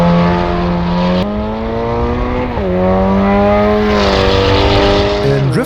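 Volkswagen Golf R engine from the Assetto Corsa EVO driving game drones steadily at close range, its pitch climbing and then dropping through several gear shifts, with a faint tire squeal near the end.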